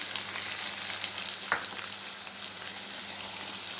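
Whole garlic cloves and ground spice powder fry in hot oil for a Tamil garlic pickle, producing a steady, close crackling sizzle with one brief stir scrape partway through.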